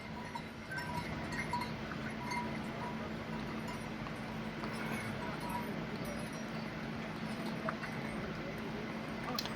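Horse hooves clip-clop steadily along the Kedarnath pilgrimage trail, carrying elderly pilgrims, mixed into a constant outdoor crowd din with faint bell-like tones; the hoofbeats are moderate in level rather than close and sharp.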